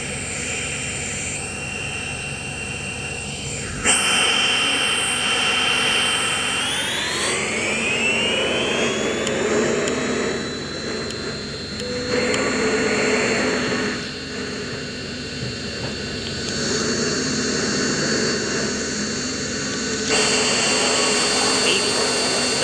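Jet engines of a Singapore Airlines Boeing 777-312ER on a Heathrow to Singapore Changi flight roar loudly and steadily, with a rising whine as the engines spool up and the sound shifting in surges over time.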